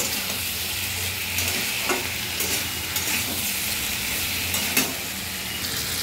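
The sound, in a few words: stirring ridge gourd and potato curry in pan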